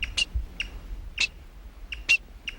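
Several short, sharp squeaky calls from a single black-backed woodpecker, likely female, spaced irregularly and fairly close, over a quiet background.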